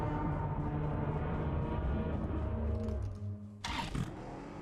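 Car engine revving in the mobile battle-royale game PUBG Mobile, a steady mid-range drone that holds loud and close for about three seconds, then dips and cuts off before a short burst of broadband noise.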